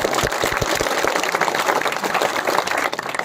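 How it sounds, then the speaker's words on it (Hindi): An audience clapping together for Om Banna ji at his dham in Sainiwas, a loud, close burst of dense handclaps filling the whole moment with no voices over it. "ओमन्ना जी के लिए वो तालियां बजा दो सारे।"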